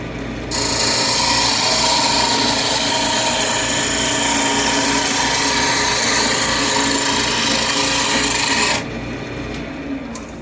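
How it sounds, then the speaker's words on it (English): A sharp hand tool shaves wood, taking off chips in a steady, continuous rasping scrape that runs loud and close for about eight seconds before stopping abruptly. "you can tell by the size of the wood chips coming off if your tool is sharp or not"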